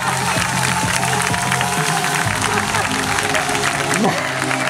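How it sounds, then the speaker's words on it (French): Audience applauding volunteers at a hypnosis show, a crowd clapping loudly while someone talks over it, with brief shifting tones and movement noises mixed in. "on les applaudit très très fort"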